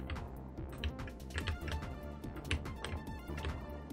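Quiet, rapid keyboard tapping and clicking from someone playing the PC game Hamsterball, keys struck in irregular clusters close by, with no talking.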